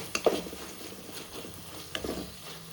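Jowar dough with tamarind frying in a pan, a faint low sizzle with a couple of brief utensil scrapes and taps near the start and end.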